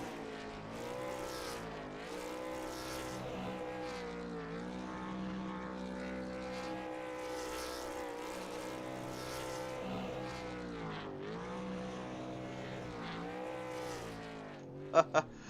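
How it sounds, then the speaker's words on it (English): A race car in a racing video game at New Hampshire Motor Speedway does victory donuts and burnouts, its engine droning steadily with repeated rising and falling revs and tire noise throughout, a couple of sharp clicks at the end. "Talk about kicking up some donuts and picking up a few burnouts there, my friends."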